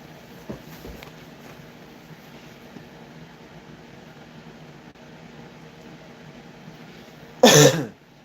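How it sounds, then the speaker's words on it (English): A person gives one short, sharp cough near the end, after a long stretch of quiet room hum and faint fan-like noise. "get my coughs out for whatever reason"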